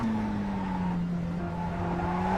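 A Mazda MX-5 in the iRacing sim drones steadily under throttle, its engine note holding a continuous pitched hum with faint tire noise; loud and constant throughout, with no voices.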